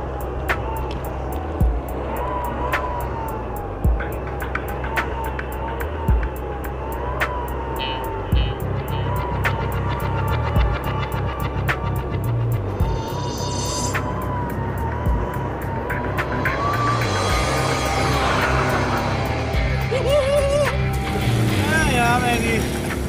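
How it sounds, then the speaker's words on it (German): Cars including a Trabant accelerate at full throttle over a 50-metre run, engines droning and rising in pitch under loud continuous talk, with a higher whine building toward the end. "Jetzt folgt der Beschleunigungstest. Vollgas über eine Strecke von 50 Metern."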